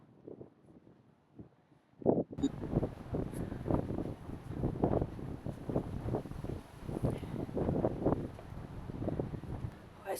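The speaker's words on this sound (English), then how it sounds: "it's very windy and very cold today" Strong, cold wind gusts across Dumbarton Castle, roaring and buffeting the microphone in rough, steady surges after a brief quieter opening.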